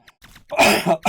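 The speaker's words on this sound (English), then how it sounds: "I'm just gonna have a coughing fit here." One person clears their throat and coughs a couple of times at close range, short and harsh, with brief pauses between bursts.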